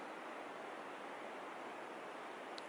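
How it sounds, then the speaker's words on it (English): Sea waves washing on the beach at Kingston, a soft continuous surf hiss at low level with a steady even texture and one brief faint click near the end. "I hope you can hear the sea"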